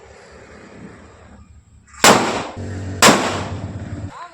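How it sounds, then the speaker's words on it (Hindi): Two firecrackers burst one second apart, each a sharp, loud broadband bang with a short ringing tail, following quiet outdoor ambience. "फाइनली दोनों फटाके फूट गए"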